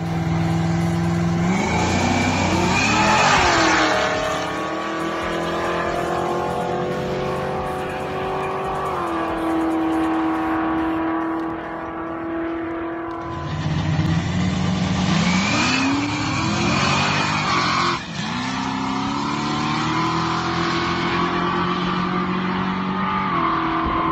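A supercharged 347 Vortec street car launches hard from a dig, engine revving loud and close through rising gear pulls, dropping between shifts and climbing again, with tire squeal and another fast car racing alongside.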